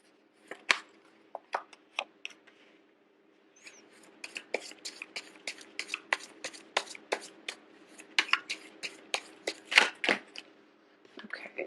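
Tarot cards being shuffled in a quiet room, a run of crisp riffling and slapping bursts that grows denser and louder after a brief pause, alone with no talk.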